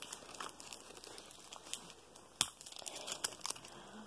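Tape torn and pressed onto a laptop, close crinkling and rustling with sharp tearing snaps and a few taps, quiet overall and with no voices.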